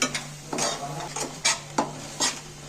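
A spoon scrapes and stirs palak paneer in a pan as it sautés, giving several soft scraping strokes with light clinks over a faint steady sizzle, close by and with no talk.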